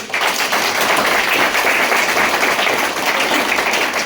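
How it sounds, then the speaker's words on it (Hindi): Dense, steady applause from an audience at a direct selling business seminar, a continuous wash of many hands clapping at full volume throughout without a break. "ताली होनी चाहिए उनके"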